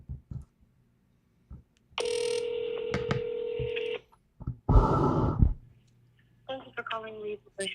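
A telephone call starts with short dialing tones, then a long electronic ring, a burst of noise and another ring-like tone pattern. The sounds are close and clear, with brief voice fragments between them.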